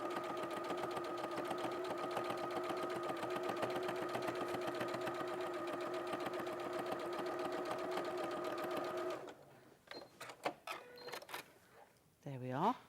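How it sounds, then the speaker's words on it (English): A sewing machine running a long top stitch on a dress or blouse, with a steady rapid mechanical whir for about nine seconds before it stops and someone speaks. "So I'm going to take my stitch length up again now, because we're doing top stitching."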